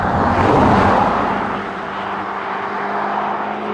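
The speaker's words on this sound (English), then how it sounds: "A big coupe with a big supercharged V8 engine up front" A deep, throaty supercharged V8 engine of a Jaguar F-Type P450 coupe rumbles close by, swelling then settling into a steady drone with a tonal hum, no voices.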